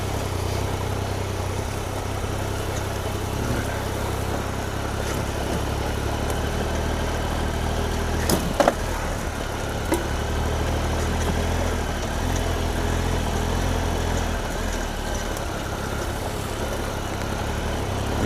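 A Triumph Explorer XCa adventure motorcycle rides slowly through woodland over branches and tree roots, its engine a steady, close drone with a couple of brief knocks partway through and no talking.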